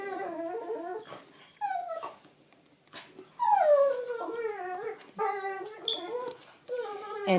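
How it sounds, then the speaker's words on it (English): Two playful dogs let out a run of whines, yips and growly howl-like vocalisations in uneven bursts, close and fairly loud, with brief quiet gaps between outbursts. "that is my dogs playing Snickers and Biscuit"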